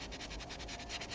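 A sanding pad rubs against a 3D print being prepped for molding, making a close, steady scratchy hiss in quick, regular back-and-forth strokes, with no voices.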